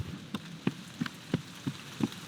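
Rain falls outside a window in the video game Nine Witches, heard as steady soft patter with distinct drops landing in a regular rhythm, close and fairly quiet with no voices.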